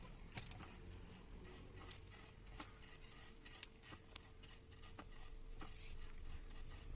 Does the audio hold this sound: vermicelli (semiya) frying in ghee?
yes